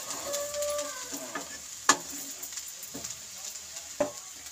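Chire polao, a flattened rice pilaf with sugar, is stirred in a pan over a soft sizzle, with a few sharp clinks and scrapes of the spoon against the pan, close by and fairly quiet.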